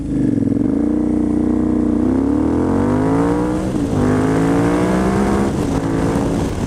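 KTM 990 Adventure motorcycle with its LC8 engine heard while riding, a loud close engine drone that rises and falls in pitch through gear changes and throttle, with steady wind rush and no talk.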